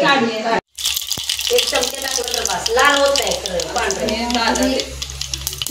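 Whole spices, curry leaves and chilli sizzle in hot oil for a dal tadka tempering, a steady crackling hiss from close by that continues under someone talking throughout.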